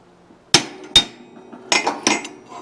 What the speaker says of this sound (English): top wheel or top crankshaft with a brass hammer, and I'm trying to get the two halves in alignment.